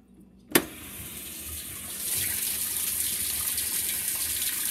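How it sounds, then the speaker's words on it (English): Water rushes steadily into the tub of a Whirlpool WTW5300SQ0 top-load washing machine after a sharp click, with a continuous hiss-like flow that rises slightly and then holds steady, with no talking. "water is coming in. Water is coming in right now."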